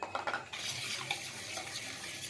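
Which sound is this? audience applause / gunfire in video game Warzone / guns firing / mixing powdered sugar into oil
mixing powdered sugar into oil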